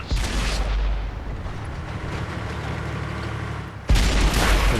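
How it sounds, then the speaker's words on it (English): Tank guns firing in World of Tanks, with a heavy blast at the start and another sudden loud boom near the end, separated by a lower rumbling stretch. "he picks his moment to just pop out and take a shot"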